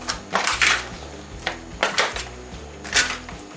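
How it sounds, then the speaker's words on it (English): Beans for pit beans being stirred in a pot, with a run of scraping, knocking utensil strokes against the metal at an uneven pace, close and fairly loud, with no voices. "we're going to stir that all in"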